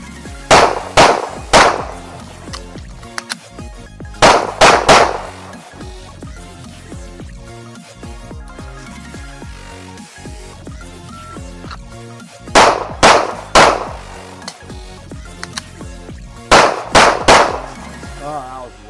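Springfield Echelon pistol fitted with a Patriot CNC compensator fires in clustered bursts of sharp, loud shots, several rapid reports per group with quieter gaps between, the groups repeating about four times.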